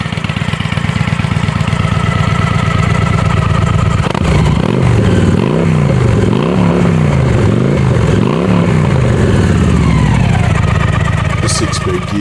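A Victory Hammer motorcycle with accessory straight shot pipes and dual 45mm throttle body, loud and close, idling with a deep rumble before a series of rising and falling revs, all heard alone.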